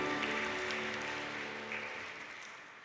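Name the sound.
congregation applause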